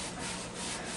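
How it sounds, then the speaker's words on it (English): A short burst of close, steady scrubbing on a jar lid used for kefir cultures, with a rough rubbing texture and no voices. "I'm going to scrub the lid"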